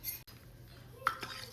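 Steel dishes and utensils being taken out in a home kitchen, a couple of sharp clinks and a metallic chink standing out over quiet room noise.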